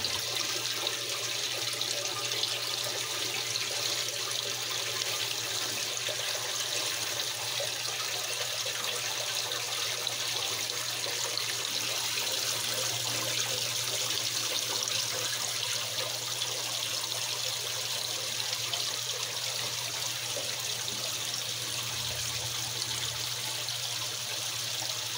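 Steady water runs and trickles continuously as a Frigidaire washing machine fills, a constant rushing hiss, with no voices.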